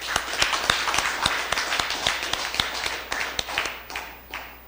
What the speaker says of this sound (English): I wish if you can give him another round of applause